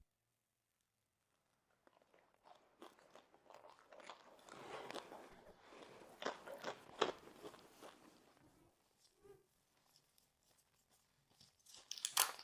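Bites into warm, crispy mini taiyaki from Trader Joe's give close, sharp crunches followed by irregular chewing and crackling, fairly quiet with no talking.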